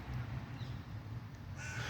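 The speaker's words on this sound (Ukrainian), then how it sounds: "Ворони каркають, теж щось говорить до Бога." Crows caw somewhere outdoors, faint and distant calls over a steady low background rumble.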